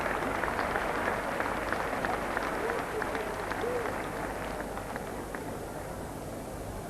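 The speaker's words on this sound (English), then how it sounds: "Rapturous applause." Sustained, dense applause from a crowd at a women's bowls semi-final, steady and fairly loud throughout, tapering slightly toward the end.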